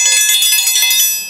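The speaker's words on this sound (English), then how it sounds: "it's the breakfast bell" A bright metallic breakfast bell clangs rapidly and continuously, ringing loud and close for over a second before fading slightly at the end.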